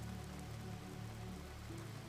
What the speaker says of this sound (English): The rain began just after sunset, gentle at first, then settling into that steady autumn rhythm that turns the world soft and grey and distant.